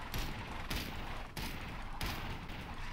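Rifle shots in the LEGO Worlds video game, four evenly spaced blasts at close range, each rolling into a noisy wash of game sound, with no talking.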